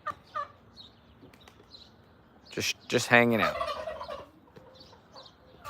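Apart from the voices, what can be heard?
chickens and turkeys near a bird feeder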